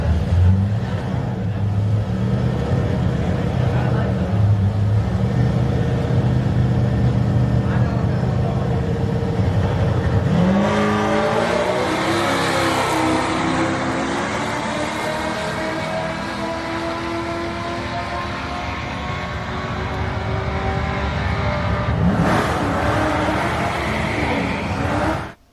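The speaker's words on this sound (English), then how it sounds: "here's Scott's car from the outside" A hot rod's engine is heard from outside the car at LS Fest East, a loud continuous rumble that climbs in pitch as it revs midway, then eases and revs again near the end, with music in the background.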